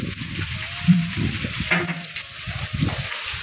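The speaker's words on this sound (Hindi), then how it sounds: "और ओले भी पड़ने लगे।" Hail pelts down in a hillside village during a fierce storm with heavy rain and strong wind, a dense, steady crackling patter of many close impacts throughout.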